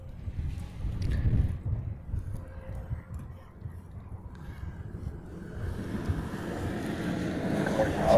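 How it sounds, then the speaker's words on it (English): Wind buffeting a microphone at an outdoor plane spotting spot in Honolulu, Hawaii, a low rumbling rush that gusts up and eases, growing stronger toward the end, with no talk. "There's that wind again."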